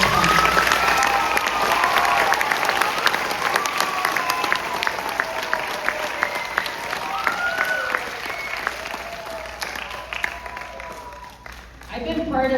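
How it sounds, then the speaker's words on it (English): A crowd at an elementary school graduation ceremony claps continuously and loudly, with voices and cheering mixed into the applause throughout. "Students and families, can we give a round of applause for all the volunteer hours in this month?"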